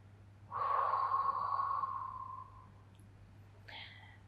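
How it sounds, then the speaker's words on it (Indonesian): One long, deep exhale breathed out slowly during stretching after a run, close and steady for about two seconds before it fades, then a short quieter breath, all over a low background hum. "Satu napas lagi."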